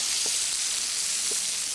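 Steady, bright sizzling of short-grained rice frying for paella in hot oil left from frying chicken, continuous and close, with a couple of faint stirring scrapes.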